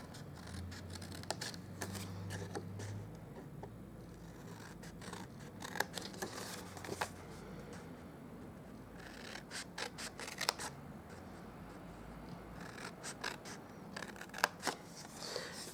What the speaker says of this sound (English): Now for these, we are going to just cut up the score lines.